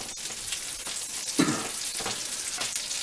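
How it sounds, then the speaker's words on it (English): Green habaneros and garlic char in a hot cast iron skillet, giving a steady crackling sizzle with a few sharper pops, close and alone. "we'll let it char a little bit on each side to get a flavor, you know, the flavor of the cast iron skillet"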